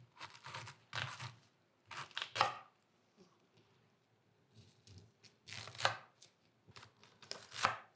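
A knife chops through a whole cabbage, quartering and coring it in a few sharp crunching cuts in separate bursts with quiet pauses between, close up and without talking.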